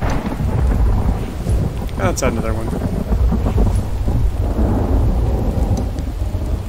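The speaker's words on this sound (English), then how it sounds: "Rains quite a bit in this game." Heavy rain pours steadily while thunder rumbles and cracks in the survival game The Infected, loud and continuous, with someone speaking briefly over it.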